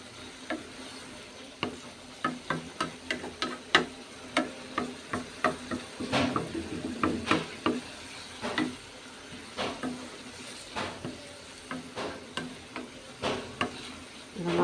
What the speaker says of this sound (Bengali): এখন এগুলোকে একটু মানে রান্না করব ভাজা ভাজা করে